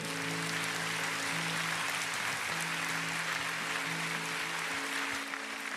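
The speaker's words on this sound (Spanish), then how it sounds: "démosle un aplauso a Dios" A church congregation applauds during a Spanish-language worship service, a steady, dense clapping texture held evenly throughout, with a faint sustained musical tone in the background.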